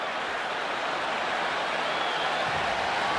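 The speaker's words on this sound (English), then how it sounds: "A standing ovation after two incompletions." A packed stadium crowd at a Texas Tech Red Raiders vs Texas Longhorns college football game giving a standing ovation, a broad, continuous roar of cheering and applause filling the space evenly throughout.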